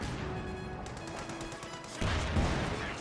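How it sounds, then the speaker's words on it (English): Mortar shells striking a .50 cal machine-gun team in Company of Heroes 2, with a steady battlefield din and a sharper, heavier crashing impact late on. "And 50 cal getting hit by the mortar."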